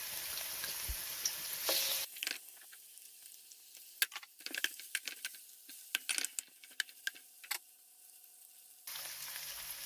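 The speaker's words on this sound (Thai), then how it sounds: "ก่อนอื่นเจียวหอมแดง แล้วตามด้วยกระเทียม จากนั้นใส่หมูหมัก" Shallots, garlic and marinated pork sizzling and frying in a wok, with a steady hiss broken by a run of sharp scraping stir strokes and clacks in the middle, loud and close.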